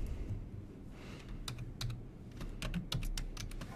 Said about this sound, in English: And I'm going to type in user ID here.